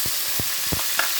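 Spice paste for a prawn curry with pumpkin fries in hot oil, a steady loud sizzle broken by a few soft stirring scrapes, close up and without talk.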